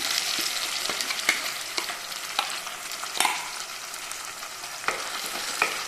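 Ground onion-tomato masala spatters and sizzles in hot coconut oil, a steady close frying hiss punctuated by sharp clicks of stirring against the pan, no voices.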